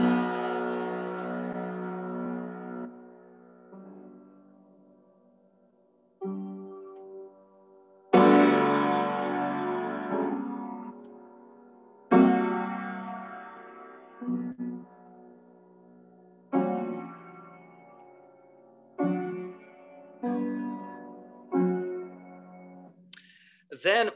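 Mussorgsky's Catacombs from Pictures at an Exhibition: loud, sustained, gloomy chords that swell abruptly and then slowly decay into quiet gaps, each phrase ringing out alone.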